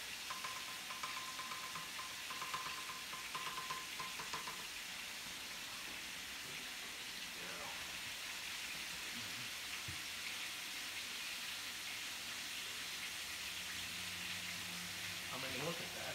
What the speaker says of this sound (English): I'm going to use this pasta spoon here. Give it a little stir.